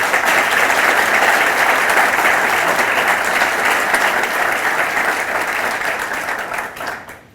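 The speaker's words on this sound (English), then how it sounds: "Will you please give them a round of applause?" An audience at a bioscience grant announcement breaks into loud, close applause, a thick continuous patter of many hands that holds steady and then fades out over the final second.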